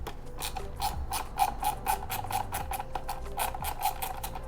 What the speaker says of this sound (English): With the T20, remove all of these screws.